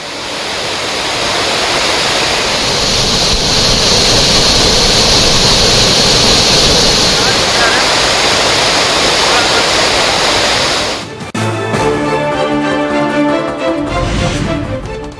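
Suruli waterfall in Theni district, Tamil Nadu, pours with a loud, dense, steady rushing roar that fills the scene for most of the time before cutting away abruptly near the end.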